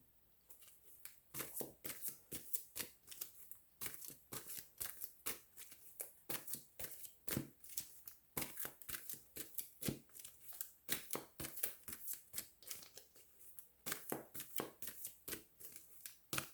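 A deck of cards is shuffled over and over for a reading, with crisp riffling bursts and soft flicks repeating quietly and closely throughout, with no voice.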